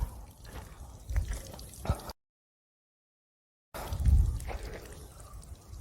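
Water dripping from an 8.4 litre drip irrigation emitter fed from a filtered tank, heard as soft irregular drips and trickles with faint outdoor background, broken by a gap of silence midway.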